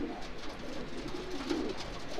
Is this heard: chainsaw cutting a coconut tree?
no